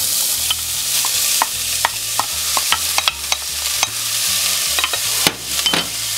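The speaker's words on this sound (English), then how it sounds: "Let's get started with some olive oil in the pan and the onion" Chopped onion sizzling in olive oil in a pan, a loud continuous fry with repeated scraping and clinking strokes as it is stirred.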